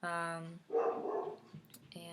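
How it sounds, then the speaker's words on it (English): Several dogs in another part of a house bark in short bursts, loud and fairly close, with a person talking over and between the barks. "I'm sorry about the dogs barking."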